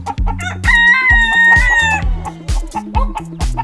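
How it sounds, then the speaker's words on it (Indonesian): A rooster crows loudly and close by in a long drawn-out call, with clucking and other short fowl calls around it. "wah, ini ada ayam."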